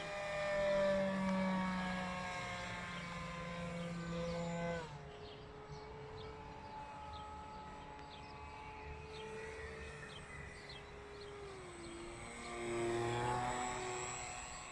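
An RC flying hammerhead shark model aircraft runs its electric propeller motor in a steady, fairly distant whine, with an unhappy propeller. The pitch drops sharply midway, then slides lower again before swelling back up.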